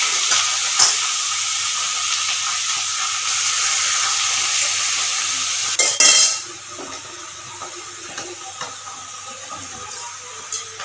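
Carrots fry in hot ghee for a carrot halwa, giving a loud steady hiss that abruptly drops to a quieter sizzle partway through, with occasional utensil scrapes and clinks as the pieces are stirred.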